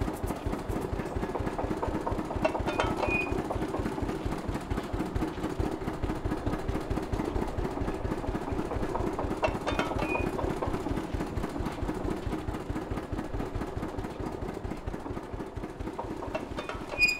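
A trawler boat's engine idles with a steady rhythmic thudding chug that stays loud and unbroken throughout, with faint knocks and clatter over it.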